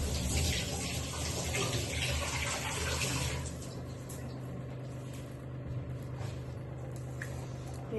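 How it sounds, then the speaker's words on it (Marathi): Tap water runs steadily over onions being washed in a home kitchen, a loud rushing splash that eases to a quieter flow about halfway through. "कांदा मी धुवून घेते."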